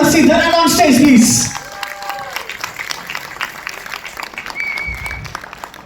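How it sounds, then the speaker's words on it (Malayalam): An audience at a press meet for a web series claps loudly as the director comes on stage, a dense burst of applause over the first second and a half that cuts off, leaving a quieter room with scattered voices. "ഡയറക്ടർ ഇത്ര കൈയടി പോകണം പ്ലീസ് എല്ലാവരും"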